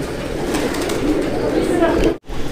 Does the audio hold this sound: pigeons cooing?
yes